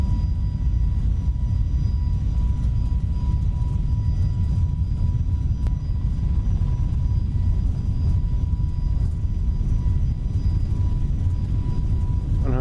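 During the takeoff roll of an FSLabs Airbus A321neo in a flight simulator, a loud, continuous roar from its jet engines holds steady throughout, dense and unbroken with no talk over it.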